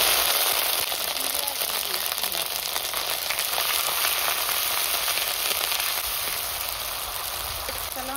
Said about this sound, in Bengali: তারপরে মশলাটা ভালো করে কষিয়ে নেবো